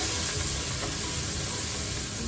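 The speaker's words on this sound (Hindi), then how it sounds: "चिकन को साथ साथ फ्राई करना है" Chicken frying in a pan for creamy cheesy pasta, a loud, dense and constant sizzle hissing without a break from start to finish.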